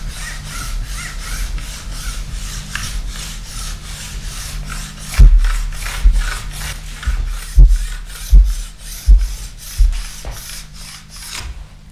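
A sharpening stone scrapes back and forth along a ski's base edge during tuning, in a steady rasping rhythm of close, loud strokes, with several firmer knocking passes toward the end.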